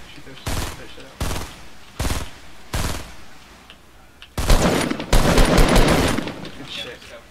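Fortnite gunfire comes in four separate rapid bursts, then a longer, louder stretch of sustained automatic fire at close range. A voice is faintly present under the shots.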